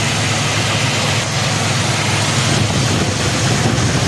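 An Oldsmobile Delta 88 engine idles loudly and up close after a carburetor overhaul, a dense steady rumble that carries through the whole short stretch without talk.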